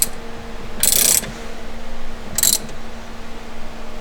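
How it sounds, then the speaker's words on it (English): The steering wheel center bolt on a Porsche Taycan is tightened, giving two brief, close bursts of mechanical ratcheting clicks about a second and a half apart over a quiet background. "Now we want to put in the center bolt before we do the airbag."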